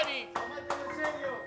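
Applause for a farewell on an Argentine TV programme: a few quick bursts of clapping mixed with voices, sounding as short, close claps under the chatter.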